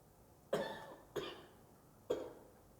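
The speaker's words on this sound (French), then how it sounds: "quelqu'un qui a toussé" A person coughs three times, each a short dry cough, in an otherwise quiet room, heard faintly at a moderate distance.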